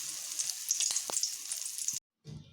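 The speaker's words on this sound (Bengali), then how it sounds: "ডিমের মধ্যে বেশ ভালোভাবে ভরিয়ে নিয়ে এইভাবে আমি ছাড়ছি। এটি আস্তে আস্তে হিট দিয়ে ভেজে নিতে হয়।" Egg-coated pumpkin pieces fry in a pan over low heat, a steady close sizzle for about two seconds, then a brief silence before the frying crackle returns more quietly.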